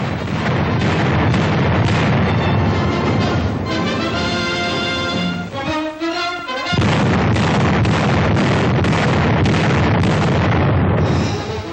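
Artillery guns fire repeatedly during trial elevation shooting in 1942 WWII archive film footage: dense, rough booms and bursts, with a short musical passage in the middle.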